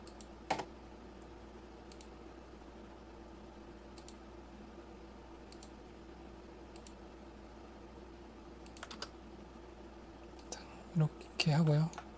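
A computer keyboard is used while modelling in Blender, giving a few soft, scattered key clicks and then a short quick cluster of louder presses near the end, faint against a quiet room hum.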